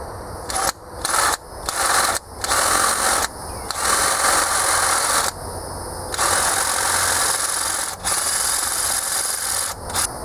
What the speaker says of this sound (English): we're going to use the 1/4 inch NP T-drill bit